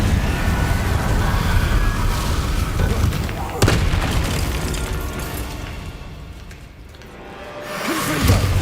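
Confringo fire spells explode in Hogwarts Legacy combat, with booming blasts and a sharp crack partway through over a dense rumbling battle bed, followed by a quieter stretch and a fresh swell at the end.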